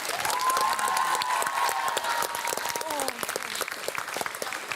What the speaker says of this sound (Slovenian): aplavz za obe ekipi